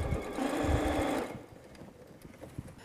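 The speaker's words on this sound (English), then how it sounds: "So I'm going to sew two of these together." A sewing machine stitches quilt fabric pieces together in one quick, close, whirring run of about a second, then stops, leaving faint handling noises.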